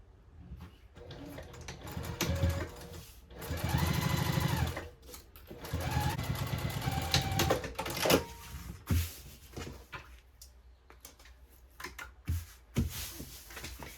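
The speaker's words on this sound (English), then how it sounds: "I'm just gonna go ahead and top stitch this seam up here at 1/8 of an inch seam allowance" A sewing machine top stitching a tote bag seam at an eighth-inch allowance, running in several close, loud bursts of rapid mechanical whirring and needle clatter separated by short pauses and small handling clicks.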